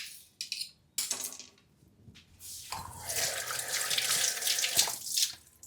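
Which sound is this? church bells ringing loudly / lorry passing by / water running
water running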